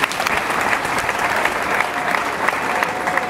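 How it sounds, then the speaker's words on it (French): A church congregation applauds in honour of a pastor's mother, dense and loud clapping that stays continuous and even throughout. "Et j'aimerais qu'on applaudisse pour ma maman"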